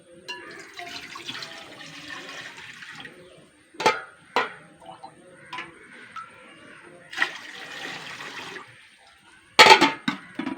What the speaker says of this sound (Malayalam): ചട്ടി എടുപ്പിച്ച് ഇതിൽ ഒരു രണ്ട് കപ്പ് വെള്ളം ഒഴിച്ചു കൊടുക്കുക